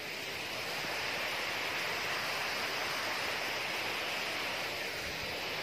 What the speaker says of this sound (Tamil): அருவி சத்தம் கேட்டுக்கிட்டு இங்கே டைம் பாஸ் பண்ண எவ்வளோ சூப்பராக இருக்கும்.